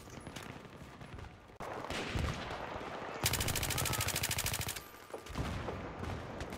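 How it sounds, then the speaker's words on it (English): Gunfire in Battlefield 3, with a shotgun among the weapons: loud broadband blasts break in partway through, then a rapid, evenly spaced burst of shots, followed by more scattered reports. "Oh, goddamn shotgun!"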